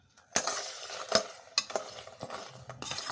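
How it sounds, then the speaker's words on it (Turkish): Lokma batter being stirred in a bowl with a utensil, a handful of sharp scraping clinks over a soft continuous wet mixing sound, close and moderately loud. "Şimdi bunu karıştıracağım."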